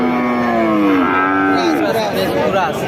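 Heifer calf at a busy cattle market, lowing in a drawn-out, rising and falling call close by, with crowd chatter and voices throughout.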